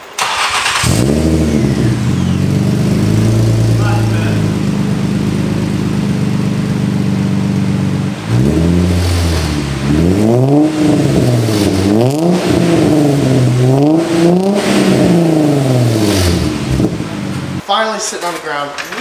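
Nissan G35 drift car with a full Z1 exhaust rumbles loudly at idle and then revs repeatedly in rising and falling sweeps, the deep exhaust note dominating close by.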